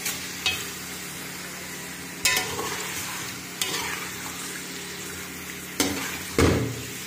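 Chicken pieces frying in a pot for palak aloo gosht, with several sharp scrapes and knocks of a spoon stirring over a steady low sizzle.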